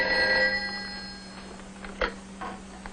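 An old-fashioned telephone bell rings in a brief, fairly quiet burst at the start, its metallic tone fading over a steady low hum with faint clicks afterward.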